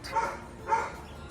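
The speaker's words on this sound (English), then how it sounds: "Lots of dogs." Dogs bark twice from some distance near a roof in Louisiana, two separate short woofs spaced about half a second apart over quiet outdoor background.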